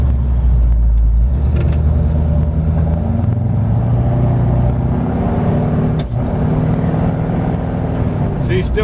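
A 1932 Ford Cabriolet resto rod hot rod drives along a road with its engine still cold and warming up, a steady low rumbling exhaust drone that holds close and loud throughout.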